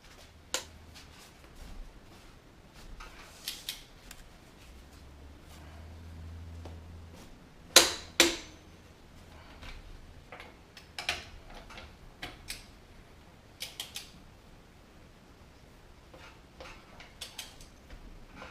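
A torque wrench set to 95 foot-pounds snugs down a Jeep's lug nuts in a home garage, giving a couple of sharp, close metallic clicks amid faint ticking and handling noises.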